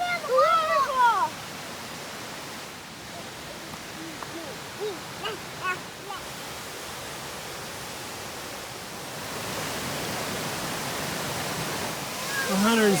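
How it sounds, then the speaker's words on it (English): A waterfall at a viewing point rushes as a steady broadband roar that swells louder toward the end, with a person speaking over it. "The waterfall!"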